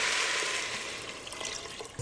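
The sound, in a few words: water poured into pressure cooker for risotto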